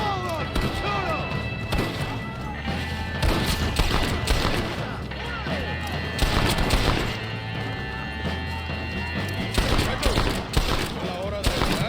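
Gunfire from the video game Red Dead Redemption during a mansion assault, with dense, continuous bursts of shots and impacts, including machine-gun fire, over game music and shouting voices throughout.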